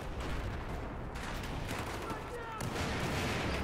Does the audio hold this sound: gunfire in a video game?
yes